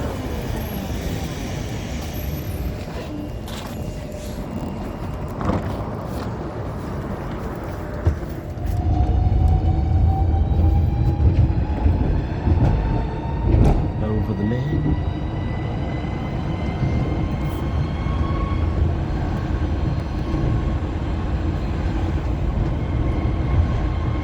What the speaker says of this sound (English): On to the number 17 tram.